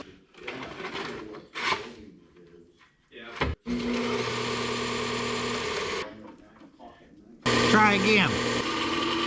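Fresh flap disc grinding metal on a 1963 IH Loadstar during a front air-ride suspension install, a sustained whirring grind in two long runs after short bursts, with a person speaking briefly.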